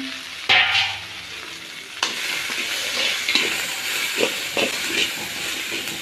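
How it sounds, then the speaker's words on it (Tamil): Vegetables fried in sauce in a pan for veg biryani, with a steady sizzle under a few distinct scraping stir strokes and clinks of a spoon against the pan, close and fairly loud. "இது நல்லா மிக்ஸ் பண்ணிக்கோங்க."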